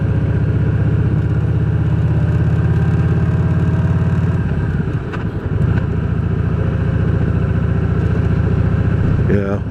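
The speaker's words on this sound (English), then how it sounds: "so I'm going to downshift" Motorcycle on a rural road approaching a sharp curve, its engine droning steadily close up, then briefly dipping and changing pitch midway as it downshifts before settling back into a steady rumble; someone talks over it.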